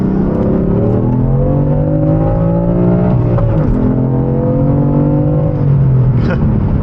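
A manual BMW F80 M3 engine revs hard at full throttle and climbs steadily in pitch under acceleration, loud and close, with a brief dip partway as if shifting gears.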